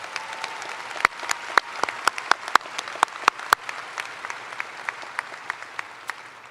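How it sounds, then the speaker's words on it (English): A large graduation ceremony crowd applauds school district staff, a steady wash of clapping punctuated by sharp, loud individual claps close by, gradually easing off toward the end. "Let's give them a round of applause."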